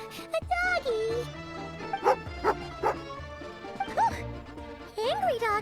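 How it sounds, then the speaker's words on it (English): A dog in Genshin Impact barks and yips several times in short bursts, with whimpering rises, mixed with game music and character voices. "Angry doggy."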